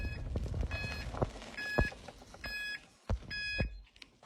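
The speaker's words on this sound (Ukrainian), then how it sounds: "повороти пікають." Short electronic beeps repeat in a steady rhythm, the turn-signal tone of a 1000W FADA FLIT III electric bike ticking on and off over a low hum of motion.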